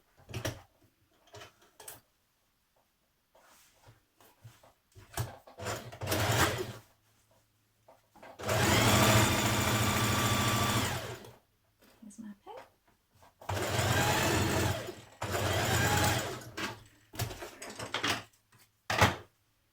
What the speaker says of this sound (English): You want to locate your dart markings and stitch in your darts on your skirt panels too.